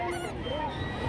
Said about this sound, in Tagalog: Dito may mga manok.